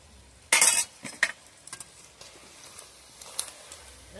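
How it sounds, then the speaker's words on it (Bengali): Raw mango pickle mixture with black mustard powder gets stirred with a spoon, starting with a loud close scrape and clink, then lighter irregular scraping and taps, with no talk. "ভালো করে নেড়ে চেড়ে নিলাম।"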